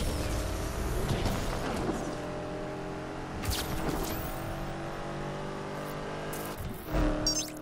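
A Lamborghini Aventador supercar drives in Need for Speed Unbound, its engine holding a steady, loud drone with a few rising revs and whooshes, and no talking over it.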